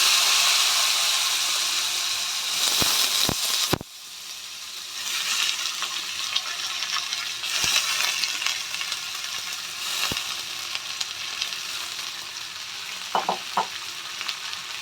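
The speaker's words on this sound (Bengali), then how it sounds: "এবার ওই তেলের মধ্যে আমি কেটে রাখা আলুগুলো ভেজে নেব।" Sliced potatoes fry in hot oil, a loud continuous sizzle close up, broken by a few sharp clacks of a utensil against the pan and a brief dip as the frying settles.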